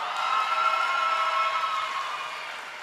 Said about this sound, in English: That needs a round of applause, ladies and gentlemen